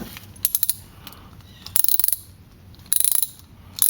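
A ratchet wrench cranks down a bolt on a RepRap Mendel X-axis carriage in bursts of rapid, close clicking, several strokes with short pauses between them, and no talk.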